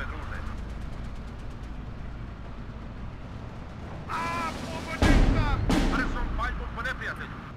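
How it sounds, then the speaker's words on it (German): Sharp gunshots and heavy booms crack out in bursts, one loud blast near the middle, with German voices talking over the background rumble; gunfire in the strategy game Steel Division 2. "Da kommen schon Schüsse."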